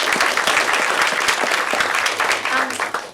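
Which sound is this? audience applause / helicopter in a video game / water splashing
audience applause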